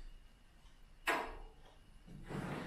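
Drawer of a restored Crypton Motorscope 335 slid shut with one sharp, fairly loud knock, followed a moment later by a softer scraping rustle as it moves again.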